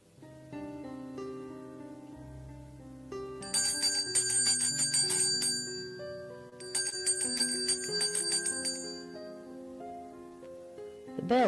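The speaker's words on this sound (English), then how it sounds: "The bell tinged" A shop door bell rings out in bright, layered chiming bursts over soft sustained music, two rounds of ringing a few seconds apart, with no talking.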